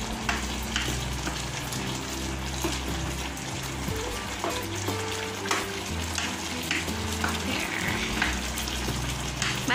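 Pork fries in an electric hot pot with a steady close sizzle and crackle, broken by occasional stirring scrapes and a low hum underneath.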